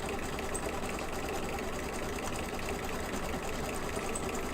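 An embroidery machine stitches a coaster in the hoop, giving a continuous close, even mechanical rattle and hum with no pauses.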